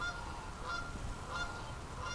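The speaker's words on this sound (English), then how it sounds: "Canada geese." Canada geese honking near a backyard in the morning, a few faint, brief calls repeating over steady low background noise.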